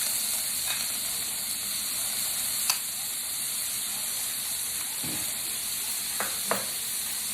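Shrimp for pad thai sear in a hot pan with a steady, even sizzle and hiss, broken by a few brief clinks and scrapes of a utensil.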